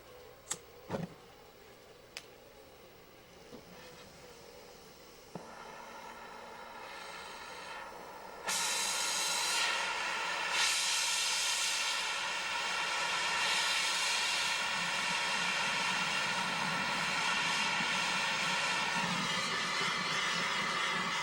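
Oxygen-propane torch roaring steadily up close as it melts gold for casting a dental crown, starting softer with scattered clicks and taps, then opening to a louder, sustained broadband rush.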